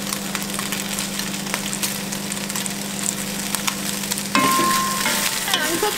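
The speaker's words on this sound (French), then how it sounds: "on va ajouter l'ail et l'oignon. Et on va le faire dorer aussi à son tour." Chicken, garlic and onion fry in a pot for a chicken tajine with apricots and almonds, producing a steady loud sizzle with light stirring clicks and a brief clatter near the end.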